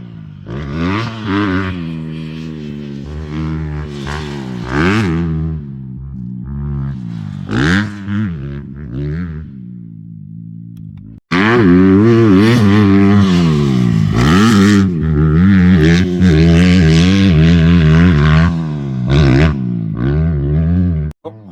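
An off-road motocross bike revs loudly on a dirt track, the engine rising and falling through throttle blips, then roars much louder and closer in a sustained, wavering run near the end.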